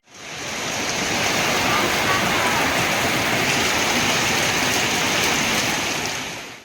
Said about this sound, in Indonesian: Hujan pertama kali mengguyur kawasan Kabupaten Muara Enim setelah kemarau ini disambut bahagia